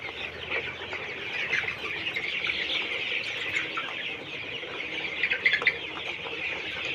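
Colorbird chickens feeding in a poultry shed, a steady chorus of soft clucks and chirps from many birds close by, continuous with no talking.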